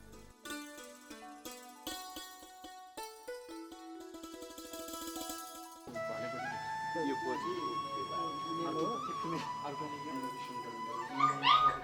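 A pet dog whimpers and whines in drawn-out, rising tones over soft music, growing louder and more insistent toward the end.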